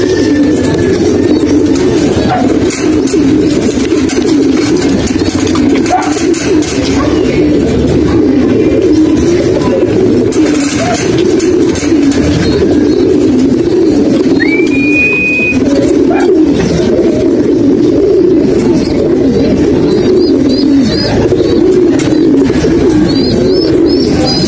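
Racing pigeons returning to a loft after a long race coo continuously in a loud, dense chorus that fills the whole stretch, with an occasional brief higher chirp.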